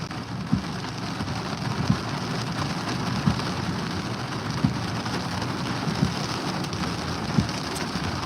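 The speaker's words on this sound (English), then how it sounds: "when it's, raining like this, you got to give yourself extra time on the road" Rain pours down on a car on the road, a steady dense hiss with soft thumps repeating at an even pace of about one every second and a half, and no voices.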